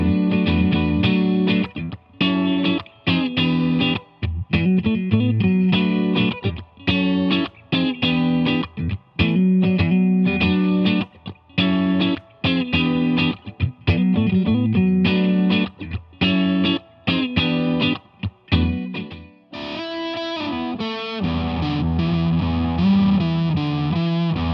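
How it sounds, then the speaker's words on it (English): A Fender Stratocaster electric guitar played through its neck pickup with a fuzz pedal, thick distorted chords and riffs in choppy rhythmic bursts with short gaps, ending on a sustained ringing chord, loud and alone. "I love the neck pickup with some fuzz on it"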